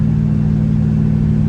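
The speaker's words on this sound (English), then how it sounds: "This engine is a 302 out of a 1972 Torino" A Ford 302 V8 engine out of a 1972 Torino runs with a loud, steady low rumble throughout, a constant mid-pitched drone with no speech.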